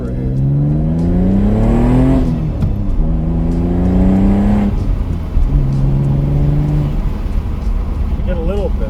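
A Mitsubishi 3000GT engine with a new intake and pre-turbo pipes revs up several times, each rise climbing in pitch then dropping, loud and close, with a voice talking briefly between revs.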